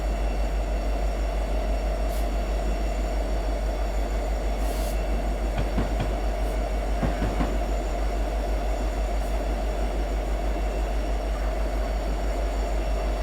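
Train Simulator locomotive running along the track: a constant loud rumble and hum with faint clickety-clack of wheels and brief higher squeals, steady throughout with no speech.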